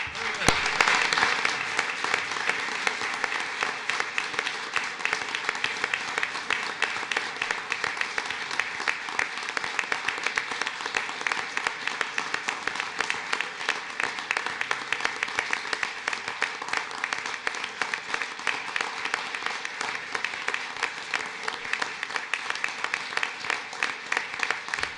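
Sustained applause and cheering from a crowd at a Brighton town board meeting as volleyball players are called up, steady dense clapping throughout with a brief louder burst near the start.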